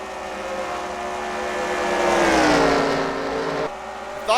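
Racing trucks, Ford F-Series among them, run on the Bristol Dirt track in a racing video game, their engines whining steadily and rising then falling in pitch as they pass close, with a brief sharp sound at the end.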